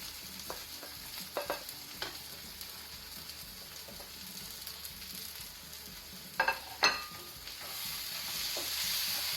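Prawn masala spices frying on low gas, stirred in the pan with a steady close sizzle and a few sharper scraping clicks, growing slightly louder toward the end; no voices.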